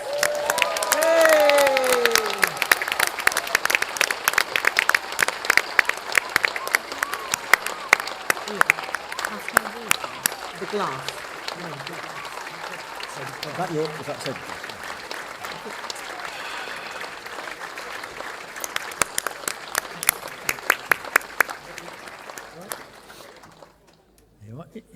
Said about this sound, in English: Have a round of applause for the claimants.